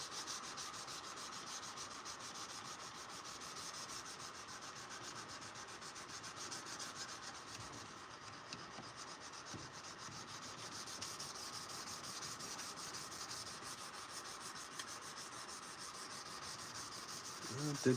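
Light hand sanding of a forged knife blade with sandpaper makes a steady, soft rubbing hiss of repeated strokes, close and quiet, with no talk.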